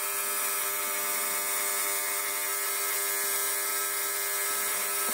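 A small high-speed grinder cleaning disassembled fuel pump parts from a 1960 Opel Kapitän P 2.6L, giving a constant, shrill whine that holds steady and unbroken throughout, close and fairly loud with no talking.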